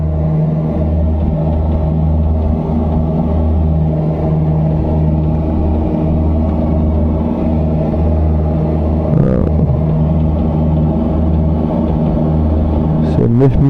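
A Cessna 172 engine drones in a flight simulator video game, a steady low propeller rumble with strong tonal hum, continuous and close under a voice speaking.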